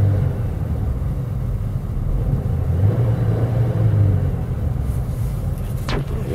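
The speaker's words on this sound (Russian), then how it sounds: "Вот, нажимаю на дроссель." Chevrolet Lanos engine running with the throttle pressed, a steady low rumble that swells slightly in the middle, with a brief clatter near the end.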